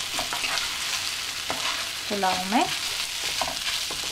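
Frozen mixed vegetables are stirred into a pulao, giving a soft, continuous sizzle with light scraping. A voice speaks briefly over the cooking.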